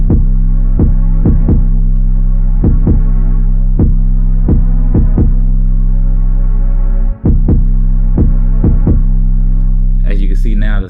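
Deep 808 bass notes set to cut themselves hit in an uneven rhythmic pattern, each note at a consistent pitch with a sharp attack and loud sustained boom, briefly dropping out before a short noisy tail at the end.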